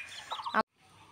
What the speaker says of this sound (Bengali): এগুলো হাঁসের ছোট ছোট বাচ্চা